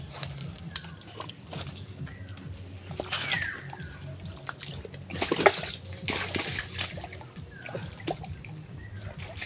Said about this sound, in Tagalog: Ayan na yung tubig, uy.